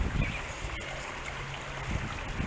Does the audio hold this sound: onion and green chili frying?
no